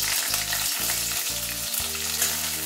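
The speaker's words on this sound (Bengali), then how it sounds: "ফোড়নটা একটু নাড়াচাড়া করে নিলাম, নিয়ে এতে দিয়ে দিচ্ছি পেঁয়াজ কুচি" Chopped onion fries in oil with a panch phoron tempering for a beet and carrot curry, giving a dense, close, continuous sizzle with faint stirring through the short stretch, and no voices.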